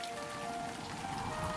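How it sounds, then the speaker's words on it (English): Heavy storm rain hammers down on shed roofs at night, a dense, even patter of drops on the surfaces with faint tonal hum running underneath and no voices. "Hard rain pounded down on the sheds, with thunder and lightning heard in the distance."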